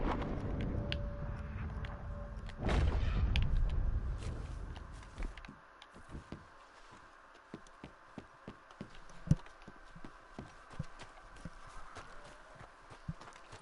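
Horse hooves clip-clopping in the video game Red Dead Redemption 2, irregular hoof taps at moderate distance after a louder rumble at the start, fairly faint over low ambient background.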